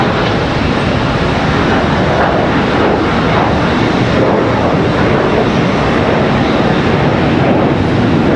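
Contour Airlines regional airliner on the move at Charlotte Douglas International Airport, a loud, steady engine roar with broadband rumble that holds constant throughout, close by and alone with no talk.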